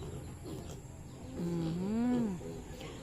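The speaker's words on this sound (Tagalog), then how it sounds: "Ayan oh, ang daming baboy." Farm pigs with a litter of twelve piglets give a loud, drawn-out call rising over a low, steady background, the one prominent cry in the middle of an otherwise quiet pen.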